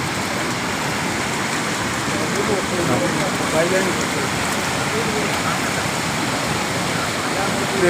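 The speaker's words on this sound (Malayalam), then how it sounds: "പാലത്തിൻ്റെ മുകളിൽ കൂടി വെള്ളം നിറഞ്ഞു മറിയുന്നത്" A loud, unbroken roar of landslide floodwater pouring over a bridge nearby, broad and steady like a torrent.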